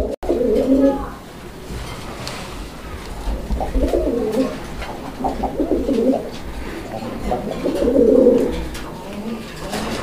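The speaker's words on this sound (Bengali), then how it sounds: "একদম দুর্দান্ত ডাকের, একদম অরিজিনাল যে বাকবাকুম সাউন্ডটা আছে" Pigeons give their original deep cooing call nearby in several rolling phrases spread across the clip, with a faint low background hum.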